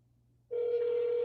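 After a brief near-silence with faint hum, a steady electronic ringing tone starts and holds, sounding like a phone line ringing through a handset.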